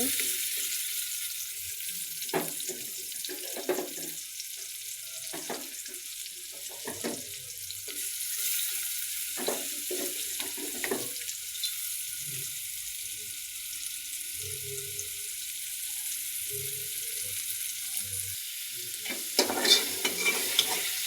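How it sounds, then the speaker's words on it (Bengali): Chopped onion fries in oil in a cooking pot. A soft, steady sizzle is broken by scattered scrapes and taps from stirring, and there is a brief louder clatter near the end. "আমি পেঁয়াজটা একটু ভাজা ভাজা করে নেব"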